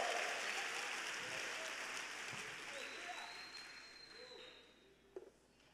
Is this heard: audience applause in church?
yes